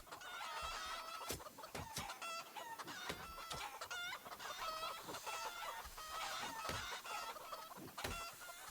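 Chickens clucking in the zombie survival game Project Zomboid, a busy, continuous chorus of repeated clucks and squawks with sharp clicks scattered throughout, fairly faint overall.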